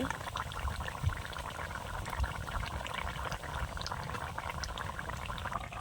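A pot of potato curry bubbles steadily at a low, constant simmer, close by, with soft popping throughout and no talking.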